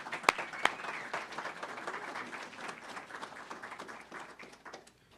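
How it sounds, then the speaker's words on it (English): An audience at an airport field dedication ceremony applauds the Civil Air Patrol, a dense, steady wash of clapping with a couple of sharp claps near the start, fading out toward the end. "How about a round of applause for the Civil Air Patrol"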